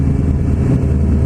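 A car passes close by at a game-day event, a steady low rumble that holds at one level throughout with no talk over it.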